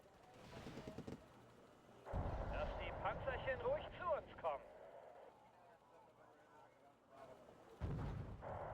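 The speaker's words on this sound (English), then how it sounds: "Oh, the mortars." Mortar fire in a WWII strategy video game, heavy distant thuds and rumbling booms mixed with battle noise, while a voice talks over it.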